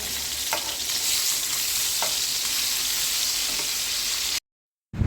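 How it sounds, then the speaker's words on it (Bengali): Fish sizzling steadily as it fries in a pan, stirred now and then with a few soft scrapes. The sizzle is close and continuous, then cuts off briefly near the end. "মাছগুলো ভেজে নিচ্ছি।"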